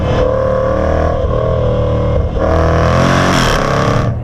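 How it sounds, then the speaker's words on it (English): Supercharged 5-liter V8 of a 2022 Jaguar F-PACE SVR revving loudly, with a sustained engine tone that dips, then surges again into a harder, rising roar, heard close and without talk. "absolutely insane 5-liter supercharged V8 under the hood"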